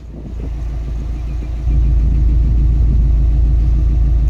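Steady low idle of a 2012 Subaru WRX hatchback with an aftermarket Greddy Supreme SP exhaust, a deep, throaty rumble that swells slightly partway through and then holds constant.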